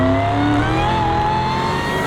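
A Dodge Challenger Hellcat Demon muscle car engine revs loudly and steadily, its rising drone continuous for about two seconds with no voices.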